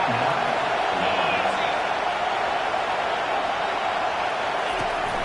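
A stadium crowd cheers at an American football game late in the first half, heard as a loud, continuous broadband roar that stays even from start to finish.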